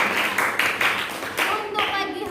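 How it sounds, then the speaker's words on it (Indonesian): Students in a classroom clap together in short uneven bursts, fairly loud and close, with children's voices mixed in beneath the clapping. "tepuk tangan juga untuk Olin."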